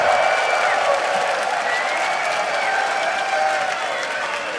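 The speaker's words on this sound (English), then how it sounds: "And I think an applause is in order for YoungBuck indeed." A crowd applauds steadily at a 2014 EU LCS League of Legends esports match, a dense wash of clapping that stays fairly loud throughout and slowly eases off.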